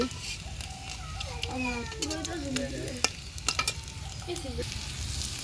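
Egg pakoras fry in a pan with a quiet, steady sizzle under a high voice and scattered clinks, and a cat-like cry rises in the middle.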